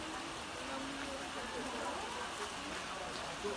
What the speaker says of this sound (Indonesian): Hujan deras disertai angin kencang mengakibatkan sebuah pohon kelapa tumbang menimpa rumah warga